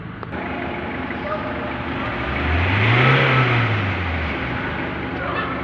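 A Ford Everest 2.2 diesel engine that has lost power and shows a check engine light is revved once, its pitch rising and then falling back, heard close and loud.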